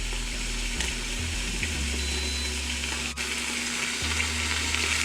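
Venison roasts brown in a hot pan with a steady, close sizzle and crackle that runs unbroken throughout, joined by a low hum.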